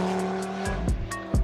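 Audi five-cylinder engine of roughly 400 horsepower, an RS3 or TT-RS, revving hard on a track, with sustained tonal harmonics and repeated rising and falling rev swells, loud and close, with no talk.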